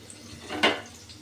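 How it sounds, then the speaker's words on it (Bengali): Hot cumin tempering is poured into a pot of khichuri, making one short, sharp hiss and splash midway through a quiet kitchen background. No one speaks. "বন্ধুরা, এবার আমি খিচুড়ির মধ্যে ঢেলে দিচ্ছি।"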